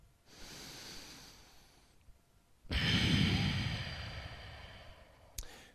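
Deep breaths taken while holding a yoga pose: a long soft exhale, a pause, then a louder, fuller breath, ending in a short sharp sniff, close and clear with no talking.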